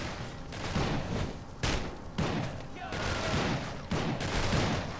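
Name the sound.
gunfire in the video game Urban Chaos: Riot Response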